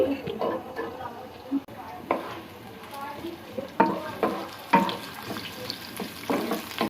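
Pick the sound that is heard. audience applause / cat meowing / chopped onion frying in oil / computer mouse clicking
chopped onion frying in oil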